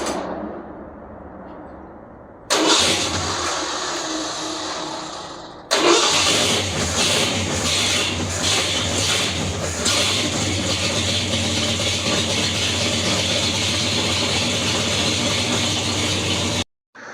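A 1978 Ford F150 cranks with a whirring starter, catches, then settles into a loud, steady idle that runs on evenly before cutting off abruptly at the end.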